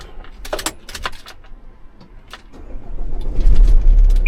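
A car nicknamed by its owner is started: keys jangle and click near the ignition, then the engine cranks and catches, rising into a loud, steady idle that fills the last second and a half.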